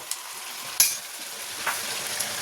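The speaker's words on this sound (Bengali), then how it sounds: "পেঁয়াজ কলি শিম ভাজা" Onion stalks and flat beans fry in hot oil with a steady, close sizzle, broken by a sharp scrape or clink of a spatula and a few fainter stirring sounds, with no voices.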